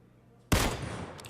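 A sudden loud burst of gunfire in a shooter video game, breaking from near silence with a sharp crack and a half-second rattling tail.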